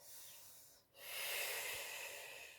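A person breathes audibly during a slow stretching exercise, with one soft breath followed after a short pause by a longer, louder airy exhalation that lingers to the end.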